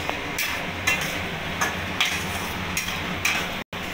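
A spoon scrapes and taps rhythmically through ground cumin, coriander and garam masala frying in a pan over a high flame, with a soft steady sizzle beneath the regular strokes.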